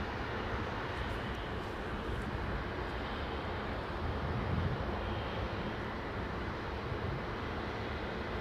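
A large jet airliner, a Boeing 777, roars steadily at Heathrow Airport, a broad and constant rumble that swells slightly midway with no voices.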